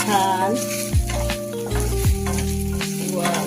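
Poppy seeds, grated coconut and a spoonful of poha roast for a drumstick masala, giving a steady close sizzle with a few sharp stirring scrapes.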